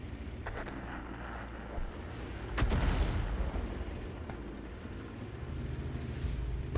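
A heavy tank cannon blast from an M41 Bulldog in World of Tanks booms out mid-clip over rushing wind-like noise, with a couple of fainter distant thuds before and after.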